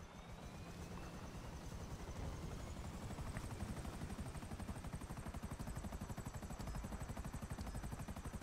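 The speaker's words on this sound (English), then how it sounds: "we're going to spend the next 30 minutes flying helicopter around the map" Helicopter flight in the GTA 5 video game: a continuous, steady rotor chop with rapid rhythmic thumping under a whining turbine drone, loud and constant throughout, with no voices.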